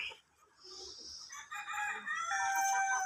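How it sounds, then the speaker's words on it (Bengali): Egyptian Fayoumi chickens out in the sun on a farm field, with a rooster crowing loudly and close through the second half, bright drawn-out calls over softer clucking. "মুরগিগুলো আলহামদুলিল্লাহ সুস্থ সবল আছে এদেরকে মাঠে রোদে দিছি"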